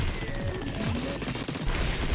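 Splatoon game weapons fire in a dense, continuous burst during a boss fight, loud and close, over layered game music and effects.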